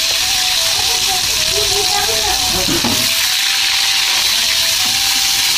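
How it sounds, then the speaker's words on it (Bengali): Potatoes tossed into hot oil in a wok sizzle with a steady broadband hiss and frying crackle that swells as they go in, while a voice talks over the cooking. "তো গাইস দেখো তেলটা গরম হয়ে গেল, এবার আলুগুলো দিয়ে দিলাম"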